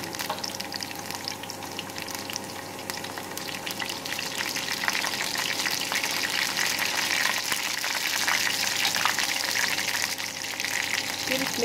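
Cumin and mustard seeds crackle and sizzle steadily in hot oil for a dal tadka, a dense close frying hiss that slowly grows a little louder; no talking.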